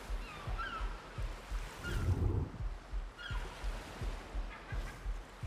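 Gentle water waves in the survival game Ark Survival Ascended lap and wash rhythmically at a soft, low level, with rolling swells rising and falling over several seconds and no talking.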